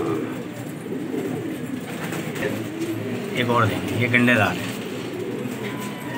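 Pigeons of the gola breed in a loft coo in low, soft repeated phrases, partly masked by someone talking close by and steady background noise.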